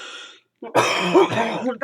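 A harsh, raspy cough erupts after a short pause, then continues as a rough hacking fit with strained vocal sounds.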